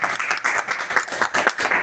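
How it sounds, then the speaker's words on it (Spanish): A church congregation claps briefly during a worship service, producing a short burst of uneven, moderately loud hand claps. "¿Quién le da un aplauso al Señor?"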